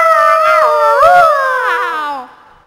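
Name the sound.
children imitating dogs howling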